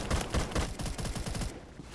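A TCR rifle in a video game fires in a fast, loud burst of closely spaced shots that ring out, then the sound quickly tails off.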